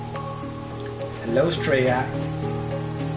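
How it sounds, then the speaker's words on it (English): Rain falling in the video game Sword Art Online: Hollow Realization, a steady soft patter under sustained game music, with a voice speaking briefly in the middle. "It's raining. Yes, it has dynamic weather."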